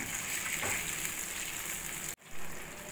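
Water pours steadily into a pan of semolina for a snack recipe, a close, continuous gushing splash that cuts off abruptly near the end, followed by a faint hiss.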